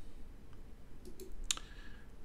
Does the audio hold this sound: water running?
no